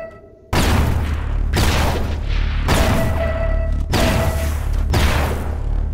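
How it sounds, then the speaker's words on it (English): A laser sentry turret fires in the People Playground game in a series of about five heavy, booming bursts, each lasting around a second, loud and close after a brief quiet start, with no voices. "Oh, laser sentry turret."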